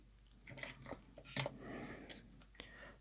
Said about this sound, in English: So I have to cut all my motor wires.